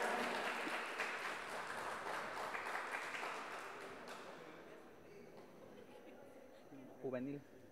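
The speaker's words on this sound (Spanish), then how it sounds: "Fuerte los aplausos para el equipo ERCA" A crowd applauds the third-place basketball team ERCA at an outdoor town fiesta, the clapping fading gradually before a voice briefly speaks near the end.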